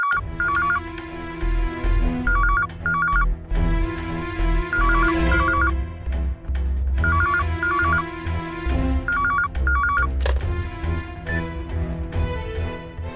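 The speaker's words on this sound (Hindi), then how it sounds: "केशव, तुम लैंडलाइन पे फोन क्यों कर रहे हो?" A landline telephone rings repeatedly in short, regular warbling bursts over a steady background hum.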